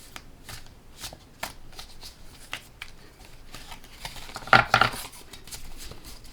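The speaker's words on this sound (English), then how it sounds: "Shuffle the cards." Playing cards being shuffled close by, a run of soft riffling flicks building to a louder, quick riffle near the end, with no talking.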